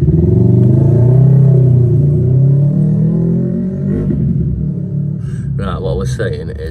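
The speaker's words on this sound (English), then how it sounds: "we've got some motorbikes in the background" A loud, steady engine rumble of motorcycles idling and revving nearby, with a voice talking over it and some clattering toward the end.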